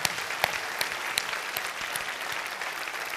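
Audience applause at an Ahmed Sylla stand-up comedy show, a dense, steady wash of many hands clapping that fills the whole stretch at even loudness with no voices on top.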